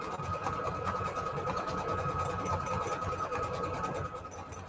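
A sewing machine runs steadily, sewing a row of small decorative star stitches at its widest stitch setting, with a continuous close mechanical whir that holds for the whole stretch and eases slightly near the end.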